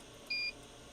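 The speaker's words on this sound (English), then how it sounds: "when this engages the switch, you'll hear it start beeping, and that's when the cut is finished" A single short electronic beep, clear and steady, sounds once over a low background hum as a PICO 155S precision sectioning saw finishes its cut and its motor shuts off.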